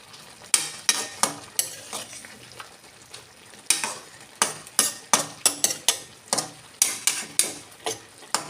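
A spoon scrapes and stirs rice pilaf with a spoonful of ghee in a pot, giving a series of sharp metallic scrapes and clinks in irregular bursts over faint sizzling, close and fairly loud.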